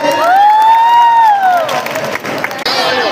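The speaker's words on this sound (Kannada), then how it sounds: "ಜೋರ ಚಪ್ಪಾಳೆ ಬರಲಿ." A large crowd cheers and claps loudly at a lively gathering, with a long rising whistle or whoop riding over the steady roar before the noise briefly dips and swells again.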